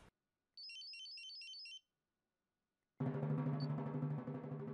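A mobile phone rings indoors with a faint, quick trilling electronic tune for about a second, followed by a pause and then a burst of louder broadband noise.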